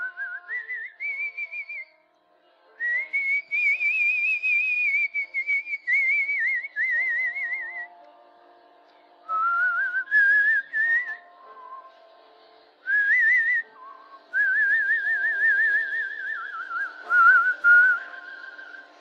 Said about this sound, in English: Every chance I get, I whistle.